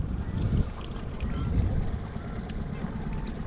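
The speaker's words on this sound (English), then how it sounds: "Using the motor to straighten out this gill net." An outboard motor on a fishing boat runs to straighten out a gill net set for catfishing, a steady low rumble with water wash, fairly loud and continuous without a break.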